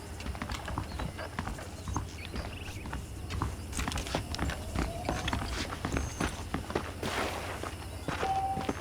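Horses' hooves clip-clopping steadily at a walking pace in Red Dead Redemption, close and continuous over a low ambient bed, with a brief whinny-like sound near the end.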